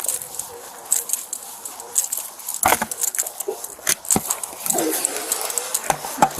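A ring of keys jangles in irregular bursts, with sharp metallic clinks and rattles close by over a steady background hiss.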